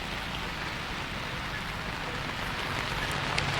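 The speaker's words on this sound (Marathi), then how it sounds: "नागपूरला पावसानं चांगलं झोडपून काढलेलं आहे" Heavy rain pours steadily in Nagpur, a dense, continuous hiss of drops hitting surfaces that stays loud and even throughout, with no voices.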